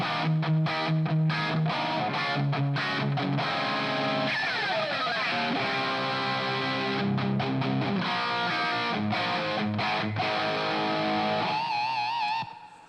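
Heavily processed electric guitar through a harmonizer reverb fed into an Eventide delay, chords and notes ringing out and smearing together before trailing off at the end.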